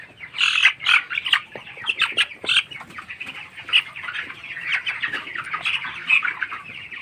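Broiler chickens in a poultry farm shed, about 22 days old, fill the space with a steady chorus of overlapping chirps and squawks, with occasional louder calls and wing flaps close by and no talk.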